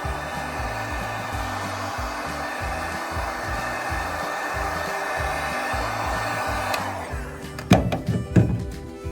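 A heat gun blasts hot air onto seam sealer on an EM1 Honda Civic body, a steady close whooshing drone, followed near the end by a few hard thunks and scrapes.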